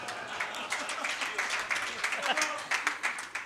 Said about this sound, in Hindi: देखो आपने ताली बजा दी